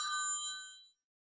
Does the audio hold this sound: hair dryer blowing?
no